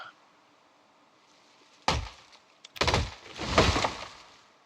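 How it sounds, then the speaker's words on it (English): A few heavy chopping thuds and crunches, spaced irregularly, as trees are chopped down in Project Zomboid, with low ambient hum between hits. "now we go cut a couple more trees down"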